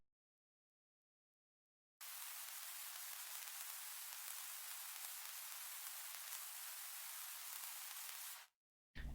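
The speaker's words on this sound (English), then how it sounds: "that is how you create interesting staticky white noise, or radio static" Steady hiss of radio static synthesized in FL Studio, broadband white noise starting abruptly after silence and running evenly for several seconds before cutting off.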